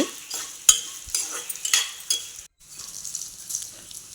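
Chilies for idli chili powder fry in a pan with a light crackle and uneven scraping stirs and clinks, close and moderately loud, broken by a brief pause.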